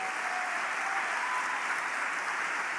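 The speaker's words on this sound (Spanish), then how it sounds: "Vamos, dele palmas al Señor por eso." Congregation clapping in church, a steady wash of many hands applauding together, even and sustained throughout with no voices heard.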